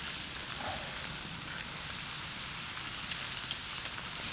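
Chips frying in oil in a pan at a coastal wild camp, a steady close sizzle with small crackles and pops throughout, no voices.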